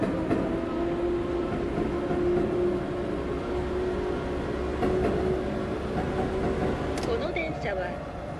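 A Yamanote Line train in a video game pulls away from Shinjuku with a steady electric motor whine over rolling rumble and occasional clicks of the rails.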